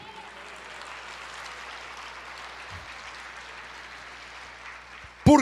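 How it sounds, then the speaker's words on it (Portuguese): A church congregation applauds in praise, a dense, even wash of clapping that holds steady for several seconds and ends with a sudden loud thump. "aplauda ao Senhor"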